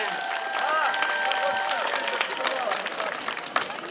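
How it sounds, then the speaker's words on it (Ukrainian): An audience at a Trinity holiday event claps for a girl in modern embroidered dress, a dense steady round of applause with a voice talking over it. "Оплески Анічці"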